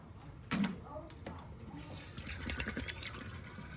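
Rainwater poured from a 2-gallon container onto a citrus tree in a garden, starting with a sharp splash and settling into an uneven trickle and patter of water over soil, with some faint background noise.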